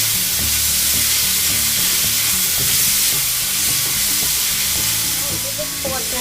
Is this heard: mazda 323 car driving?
no